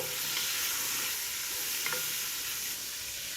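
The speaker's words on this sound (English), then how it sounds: "Let's put in the onion." Onion fries in a hot pan after pork has been removed, giving a loud, continuous close sizzle with faint stirring scrapes and no voices.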